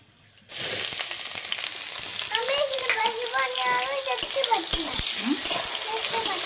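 Chopped onions and sugar frying in a pan with whole garam masala for a rohu fish curry, a steady loud sizzle starting abruptly and continuing throughout, with a person's voice over it.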